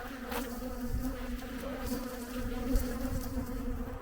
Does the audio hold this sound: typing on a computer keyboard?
no